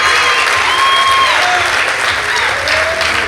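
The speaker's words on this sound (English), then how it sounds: "so give it a round of applause." Audience applause after a psychedelic puppet show presentation, sustained full clapping from a crowd with a few faint whoops or high voices rising over it, loud and continuous throughout.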